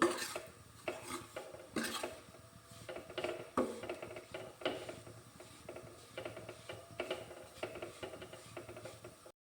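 Flour roasting in a pan over low gas while a spoon stirs and scrapes it, producing repeated soft scraping strokes and light clinks against the pan, quiet and close.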